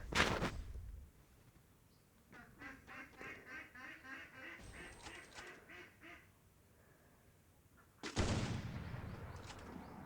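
Two loud, sharp AWM sniper rifle shots ring out in a shooting video game, one at the very start and one near the end, with softer honking game sounds in between.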